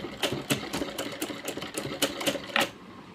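A sewing machine runs a thin line of stitching along a blouse neckline, producing a steady, close, rapid clatter of needle strokes with small surges in speed.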